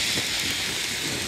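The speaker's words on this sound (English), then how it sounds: "the rain is greeting us in San Malo" Heavy rain pours down steadily during a bike ride into Saint-Malo in France, a dense, loud, unbroken hiss.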